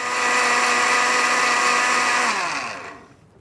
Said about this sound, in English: So I'm going to pour that into the blender.